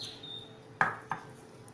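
Fresh shallots and garlic are pounded in a mortar for a Thai tamarind dipping sauce, giving two sharp knocking thuds about a third of a second apart against a quiet background.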